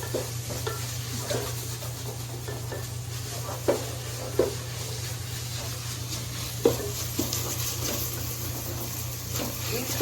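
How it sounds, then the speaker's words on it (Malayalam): Steady low sizzling of onions frying in oil with a constant hum underneath, broken by occasional sharp clinks and scrapes of stirring. "സവാള വഴണ്ട് കൊടുത്തിരിക്കുന്നു"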